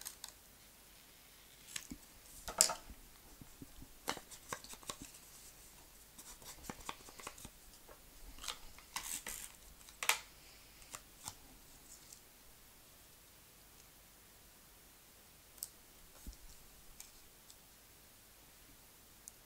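Scissors cut patterned paper in a papercraft layering project, producing quiet, scattered snips and rustles spread unevenly through the stretch, with some close clusters of clicks and longer gaps between them.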